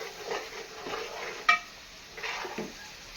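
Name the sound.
mixing curry ingredients with turmeric in a pot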